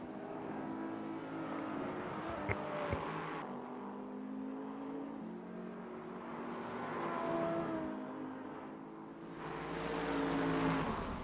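Race cars at the Hockenheimring, a Toyota closing on and passing a Porsche Cayman GT4 during an LMP3 and GT4 endurance race, engines droning steadily with rising and falling pitch as they pass, heard from a distance.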